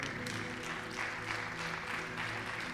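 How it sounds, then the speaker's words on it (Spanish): Congregation at a church service applauding, a dense, continuous wash of clapping heard from a distance, steady and even throughout with a faint low hum beneath. "Denle un fuerte aplauso al nombre del Señor"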